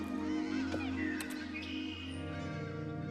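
Cartoonish birds from The Stanley Parable video game honk and squawk for about three seconds over a steady tonal background, fairly close and even in level.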